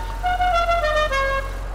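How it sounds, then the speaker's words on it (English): A modified car horn in the video game GTA V honks a warbling musical tune of stepped, descending tones. It plays loud and clear for under two seconds with no talking. "you should not have messed with a bloody horn."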